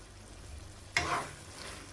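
Squid masala being stirred in a pan after pepper powder and garam masala go in, one sudden scraping stir with a brief burst of sizzle over a quiet cooking background.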